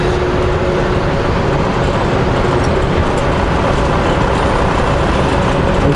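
Road noise fills the inside of a moving car on an Alberta highway while another car speeds past, a steady loud roar of tires and wind with no distinct pass-by peak.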